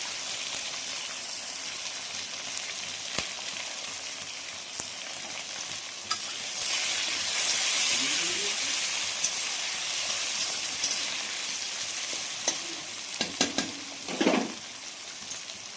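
Chopped onion, tomato and green chili sizzle and fry in a pan, a steady close hiss with brief stirring scrapes and clatters, no talking.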